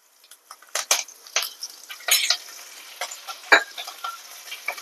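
Curry leaves dropped into hot oil for a Rajasthani dal bati dish crackle and sizzle, with a series of sharp spitting bursts and stirring scrapes close by; no one speaks.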